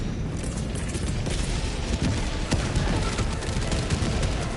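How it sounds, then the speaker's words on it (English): Dense, continuous barrage of explosions and gunfire-like booms from an orbital strike in the video game Helldivers 2, loud and chaotic throughout with overlapping blasts and no talk. "Calling in orbital strike!"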